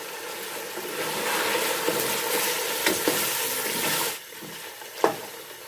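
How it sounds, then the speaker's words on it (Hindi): Biryani masala being stirred into a student-style biryani mixture frying in a pan, with loud continuous sizzling and scraping strokes, a few sharper knocks of the spoon, then the sizzle eases off. "हम इसके अंदर 2 टेबलस्पून बिरयानी मसाला ऐड करेंगे। इसे मिक्स करेंगे।"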